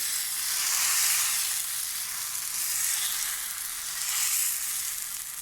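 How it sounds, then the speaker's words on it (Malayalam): Appam cooks in an oiled pan, giving a steady, close, bright sizzle and hiss that swells slightly and eases but never stops, with no voices. "അങ്ങനെ അപ്പം ചുട്ടുകൊണ്ടിരിക്കുകയാണ്."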